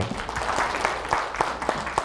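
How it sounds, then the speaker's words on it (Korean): Lecture audience applause, a steady patter of many hands clapping at moderate volume, continuing evenly throughout without voices. "박수 한번 부탁드립니다."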